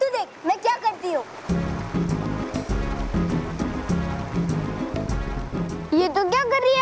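A waterfall gives a steady rushing roar under a children's fantasy drama scene, with excited voices talking over it throughout.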